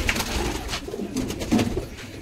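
A pair of Patiala pigeons kept by a breeder coos close by, soft rolling throaty calls that swell and fade in a continuous murmur, with no voices.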